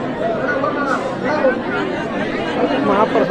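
A large crowd of devotees at a Datta Jayanti temple festival in Mangaon chatters loudly and steadily. Overlapping voices form a dense, close hubbub throughout with no pauses.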